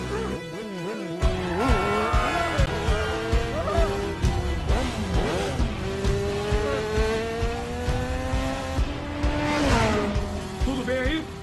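A powerful motorcycle in a movie scene revs hard, its engine pitch climbing and sliding in loud, continuous sweeps that hold for about eleven seconds.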